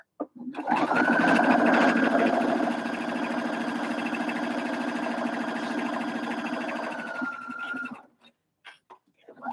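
A sewing machine stitches a cinch bag, running steadily and close for about seven seconds with a constant whir before stopping, with no talking over it.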